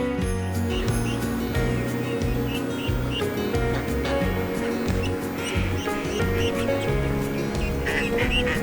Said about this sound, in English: there's little duck babies all around my feet